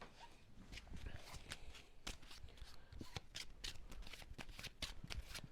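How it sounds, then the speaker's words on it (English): Playing cards being shuffled close by, a rapid series of crisp riffling snaps and papery flutters, steady throughout with no talking. "And we shuffle."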